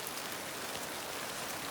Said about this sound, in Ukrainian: Знов дощ, значить капуста ось така.